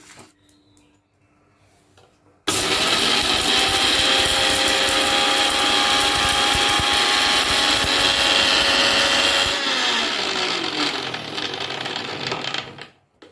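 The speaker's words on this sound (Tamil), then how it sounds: "மிக்ஸி ஜாரில் பொடி பண்ணி எடுத்துக்கலாம்" A loud, continuous high-pitched whirring of a mixer grinder grinding spices into a masala powder runs for about seven seconds, then winds down to a stop.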